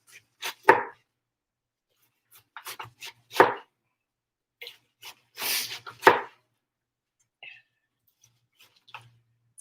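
A knife chops ingredients for egg roll in a bowl, a few sharp close thwacks and scattered chops separated by quiet gaps.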